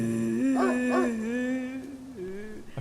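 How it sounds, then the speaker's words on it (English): A frightened dog whines and whimpers in a video game, a sustained high tonal cry with two wavering yelps early on, clear and alone. "A dog is whining, like it's afraid of something."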